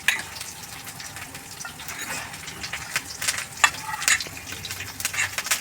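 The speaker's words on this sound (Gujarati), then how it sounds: "આપણે મસાલાનો વઘાર કરવાનો છે" Spices such as fennel and cumin, with curry leaves, tempering in a little hot oil in a pan: a soft, steady sizzle with sharper pops and crackles that grow busier toward the end.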